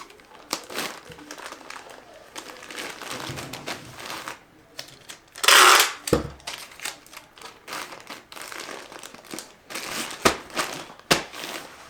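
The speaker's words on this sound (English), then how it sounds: "Put a little tape on these pieces." Tape pulled and pressed onto pieces of a shipping package, with crinkling, tearing and a loud rip of tape among quick handling rustles.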